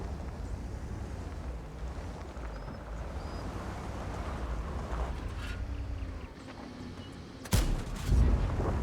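A British Concept 5 medium tank's main gun fires once in a video game, a sudden loud boom near the end following a low engine rumble, with no voices.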